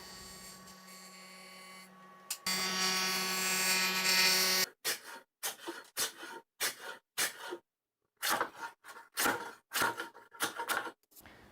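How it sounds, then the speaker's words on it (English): A mini jointer hums as it planes the sides of a wooden frame for a workshop table saw cabinet: one long, loud cutting pass, then a series of short, sharp bursts separated by brief pauses. "I'm just going to use this and pass all 4 sides of the frame over the jointer"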